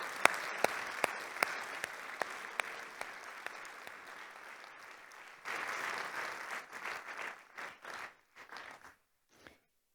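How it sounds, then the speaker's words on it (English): Audience in an auditorium applauds five judges as they exit a research talk competition, scattered sharp claps growing into a fuller swell before breaking into a few fading, uneven bursts, fairly quiet overall. "how about we give all 5 judges a round of applause?"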